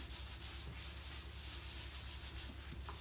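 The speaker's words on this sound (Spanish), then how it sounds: "Ahora sí le vamos a tallar con la esponja." A sponge scrubs burnt residue off a kitchen stove coated with squeezed lemon, making a continuous, close, rough rubbing sound that keeps a steady back-and-forth texture without pause for the whole stretch.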